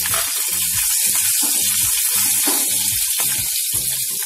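Garlic, green chili and ginger sizzling in hot oil in a pan for a cashew curry, a loud continuous close hiss and crackle, with a faint rhythmic stirring or clatter beneath, no speech.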